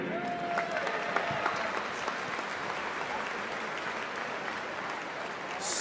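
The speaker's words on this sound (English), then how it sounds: "Give a hearty round of applause for one of our own, Pat Tiberi." A stadium crowd of Ohio State fans gives a hearty round of applause for a welcomed alum, a dense, roaring wash of clapping and cheering that holds steady throughout, with a brief whistle-like tone early on.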